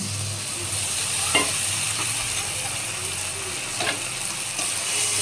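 Soybean curry with mixed spices and turmeric fries in a pan, a soft steady sizzle with occasional scraping stir strokes, close and fairly quiet.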